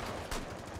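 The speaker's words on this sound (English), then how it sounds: "Who's shooting at us?" Gunfire in Rainbow Six Siege during a Terrorist Hunt match: two or three sharp, loud shots about half a second apart, close by, over a dense noisy game backdrop with no talking.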